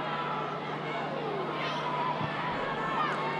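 Stadium crowd at an Italy versus Georgia women's Euro 2022 qualifier applauding as Alia Guagni is substituted off, a steady dense wash of clapping and murmur with no single standout burst.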